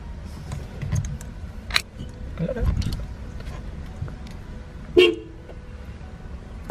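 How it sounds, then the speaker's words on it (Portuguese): A Honda EF sedan's horn, tested right after a new steering wheel is fitted, gives a couple of short toots among garage clatter and key jangling. People talk briefly in the background. "Pronto, assim já tens buzina."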